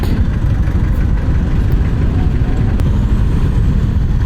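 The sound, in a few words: truck engine braking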